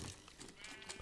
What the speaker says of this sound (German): Da ist noch Schafe.